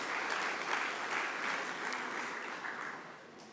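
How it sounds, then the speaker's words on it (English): An audience at an education summit opening ceremony claps steadily, a broad wash of applause heard from a distance that stays fairly level and fades a little toward the end. "Please give him a round of applause as it comes."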